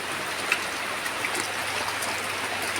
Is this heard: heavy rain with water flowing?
yes